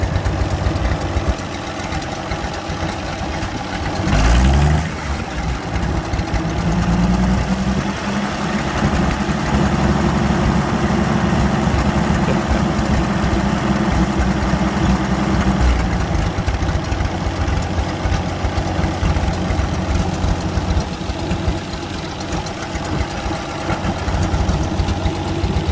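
An old Allis Chalmers engine idles with a fast, even mechanical patter like a sewing machine, steady and close throughout, a brief thump interrupting early on.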